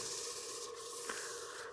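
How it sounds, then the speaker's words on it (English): A turned wooden cake stand is wet sanded with 600 grit sandpaper, a steady, faint rubbing hiss that runs continuously with a slight scrape midway. "sand that one more time with the 600 grit to denib it"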